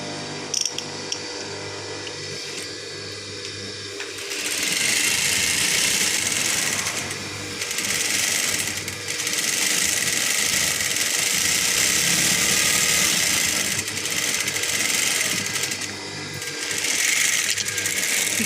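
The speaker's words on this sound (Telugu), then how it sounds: "చివరి అంచుల్ని కొద్దిగా మడుచుకుంటూ కుట్టుకుందాము." A sewing machine stitches the folded edges of a nighty's fabric in several bursts of rapid whirring, close and loud, with short pauses between runs and quieter handling noise at the start.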